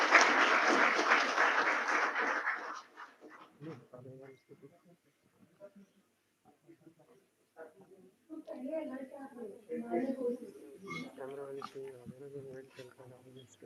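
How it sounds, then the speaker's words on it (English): An audience at an inaugural session gives the chief guest a brief, loud burst of applause that dies away within about three seconds. Speech and room chatter follow. "Give a big round of applause."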